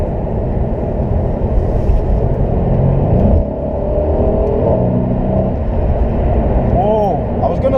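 A Mercedes CLA45 AMG engine pulls loudly while driving, its revs climbing and easing in a couple of surges, with a voice briefly heard over it.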